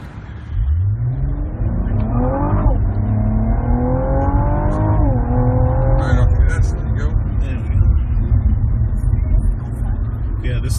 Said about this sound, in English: Yeah, this thing accelerates pretty damn fast.